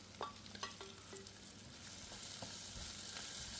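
Cashews, curry leaves and green chillies sauté in hot oil for beetroot rice, giving a steady close sizzle with a few sharp clinks of a stirring spoon early on.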